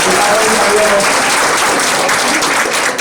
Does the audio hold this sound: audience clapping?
yes